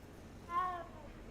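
A black cat in Hogwarts Legacy gives one short, clear meow that rises and falls over a faint steady background, heard alone with no talking.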